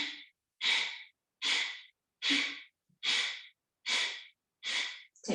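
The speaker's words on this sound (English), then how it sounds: "take a breath in to prepare" Deep belly breaths in a yoga breathing exercise: seven strong, evenly spaced breaths, each a loud rushing whoosh of about half a second separated by short silences, close to the microphone with no talk.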